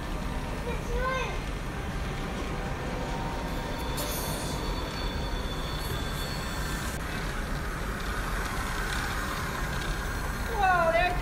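A small toy electric train runs steadily along its track with a continuous rolling rattle and faint squeaks, while excited voices chatter over it.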